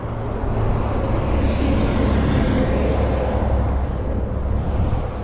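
Heavy traffic on a busy Nairobi road beside Nairobi National Park: a dense, continuous rumble of passing vehicles with a brief hiss like a truck's air brake, loud and close, with no talk.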